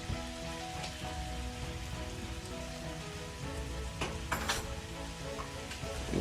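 Crayfish seasoning frying in a pan hisses and sizzles steadily, with bursts of crackling spatter and a few scraping stirs.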